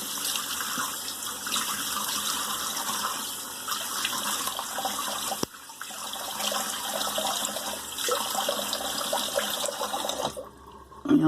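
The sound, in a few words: cold tap water running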